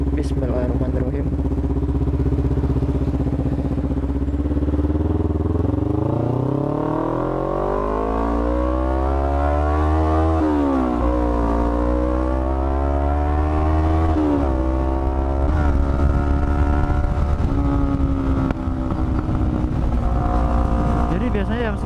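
Motorcycle engine warming up while idling on a quiet city street, a steady close rumble with rising and falling harmonics as the revs shift, continuous throughout.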